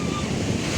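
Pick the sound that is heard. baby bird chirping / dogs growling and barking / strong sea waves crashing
strong sea waves crashing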